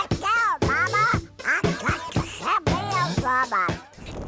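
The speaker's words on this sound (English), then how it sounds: "a novelty song about a duck that dances to disco music" A comic duck voice quacks and squawks in a rapid sung pattern, from the 1976 novelty disco song about a dancing duck, loud and close with clear up-and-down tones.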